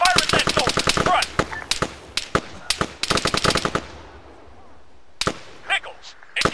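Rapid machine gun bursts in the Arma 3 Apex shooter game, loud close volleys of repeated sharp shots in several bursts separated by short pauses, with quieter distant shots near the end.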